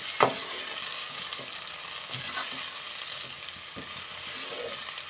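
Finely chopped tomatoes frying over a low flame for turnip bharta, a steady soft sizzle with occasional light stirring scrapes in the pan, close and alone.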